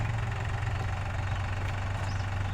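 A Mahindra 655 tractor engine idles nearby with a steady, low knocking throb, continuous and fairly loud with no voices.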